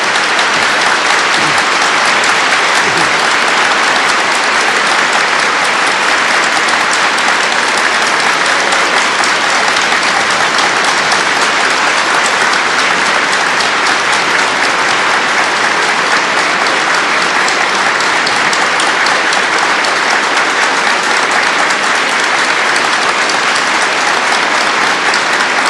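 Convocation audience at the University of Prince Edward Island, 1980, applauds graduates in a long sustained ovation, dense and loud, holding steady for over twenty-five seconds without letup.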